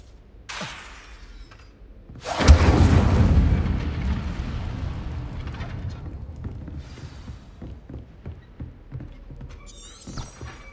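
A fire spell cast in the Hogwarts Legacy video game erupts in a loud whooshing burst that swells and slowly fades, followed by scattered clicks and rustles, with no talking.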